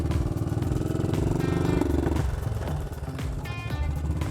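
A motorcycle engine from a batch imported from Germany shifts out of first into second gear, its loud, steady rumble dipping briefly mid-shift before picking back up close by.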